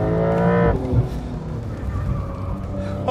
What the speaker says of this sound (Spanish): Vamos a empezar a dar rienda suelta un poco al motor.